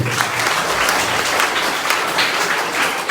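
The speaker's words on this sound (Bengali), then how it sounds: "আমরা জোরে একটা হাততালি দিব তার জন্য।" Loud applause from an audience at a school event, a dense continuous burst of many hands clapping together.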